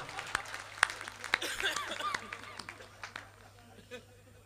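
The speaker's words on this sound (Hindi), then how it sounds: "आइए, जरा इनके सम्मान में जोरदार तालियां बजा दीजिए।" An audience at a Hindi poetry gathering gives a short burst of scattered hand claps and some chuckles, fairly faint and uneven, fading out within a few seconds.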